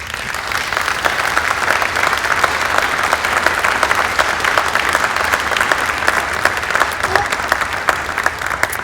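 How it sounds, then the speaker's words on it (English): Steady, warm audience applause fills a town hall during an opening session, a dense even patter of many hands clapping continuously for several seconds without letting up. "you can hear the warm applause, I hope, through the microphone you can hear the warm applause."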